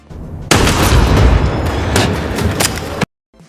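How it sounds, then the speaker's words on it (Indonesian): A gunshot in a film scene, fired by a man into a woman's arm, hits as one loud, heavy boom with a long rumbling roar that cuts off abruptly into silence. "secara tiba-tiba Okju ditembak oleh Choi dan mengenai lengannya"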